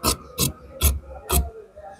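Scissors cut kameez fabric during a tailoring job in four crisp, separate rasping snips, each about a quarter second long, close by and evenly spaced.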